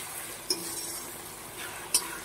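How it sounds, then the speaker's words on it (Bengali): Spice paste frying in a pan for a thin mutton curry, stirred steadily with a utensil under a soft sizzle. Two sharp clinks of the spoon against the pan are heard, near and clear, and no one speaks. "মশলার পেস্টটা দিয়ে দেবো এর মধ্যে, দিয়ে ভালো করে একটুখানি ভাজা ভাজা করে নেব"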